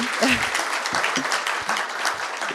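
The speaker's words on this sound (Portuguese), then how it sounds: "palmas para a Maria, que está fazendo a fala de encerramento." Audience applause at a panel on AI regulation, a steady patter of clapping from a seated crowd, fairly loud and near, with a voice speaking briefly over it.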